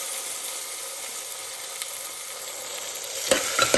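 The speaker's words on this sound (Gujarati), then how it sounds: "કાંદા બટેકા ને ટમેટા જે આપણે સુધાર્યું હતું એ નાખી દીધું છે. વઘારની અંદર બરાબર આપણે મિક્સ કરી લઈએ." Chopped onion, potato and tomato sizzle in a hot oil tempering of mustard seeds, cumin, curry leaves and asafoetida for Maggi rice, a steady close frying hiss, then spoon scrapes and clatters as the mix is stirred at the end.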